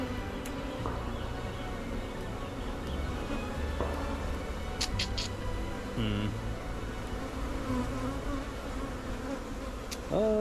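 Honey bees buzz around an open hive during a honey harvest, a steady dense drone close by with occasional individual bees whining past, and faint clicks and handling noises mixed in.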